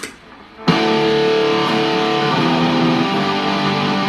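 Loud, sustained electric guitar chords with heavy distortion ring out after a brief quiet start, thick and buzzing, with one chord change midway.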